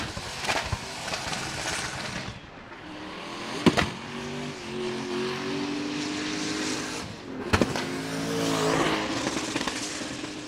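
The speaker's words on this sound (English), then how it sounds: "Listen to this thing, pop and bang." A BMW drift car engine roars and revs continuously at a Formula Drift competition in Atlanta, with a couple of sharp popping bangs from the exhaust standing out along the way.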